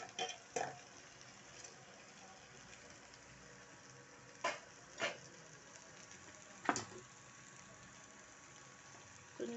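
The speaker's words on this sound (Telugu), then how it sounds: "మంచిగా వేగుతున్నది చూడండి" Seasoning frying in a pan for fenugreek-tomato dal: a faint, steady sizzle close by, broken by a few sharp pops and ticks from the hot oil, with no talk.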